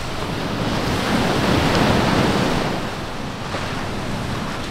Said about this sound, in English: We are here at Paradise Beach.